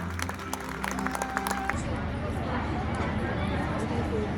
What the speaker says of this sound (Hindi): जोरदार तालियों से स्वागत करें मिस Al-Shifa का